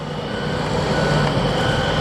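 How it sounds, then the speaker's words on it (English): Dump truck pulling away from a construction site, its engine rumbling steadily and close while a repeating backup beeper sounds over the low drone. "Here goes another dump truck leaving the site once again"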